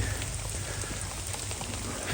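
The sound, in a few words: rain falling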